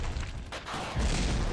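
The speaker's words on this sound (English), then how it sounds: "Ooh, helicopter explosion." A helicopter blowing up in the Cold War real-time strategy game Regiments: a loud, rumbling in-game explosion that swells and holds steady through the short burst, with no talking over it.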